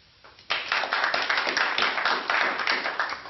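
Audience at a town hall meeting on healthcare breaking into applause after a short quiet lead-in, dense clapping from many hands that holds steady and fairly loud to the end.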